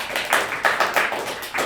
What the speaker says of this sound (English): Clap now